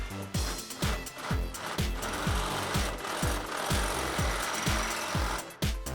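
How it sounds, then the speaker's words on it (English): A power drill with a large WD-40-sprayed bit bores through lined-up holes, a loud close rapid grinding chatter with regular rhythmic pulses repeating about every half second throughout. "go ahead and drill it through"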